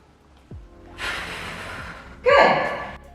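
A pregnant woman breathes audibly while squatting under a bar, with a sharp inhale followed by a longer, stronger exhale, close and without talk.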